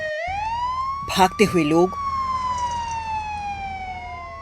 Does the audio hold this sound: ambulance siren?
yes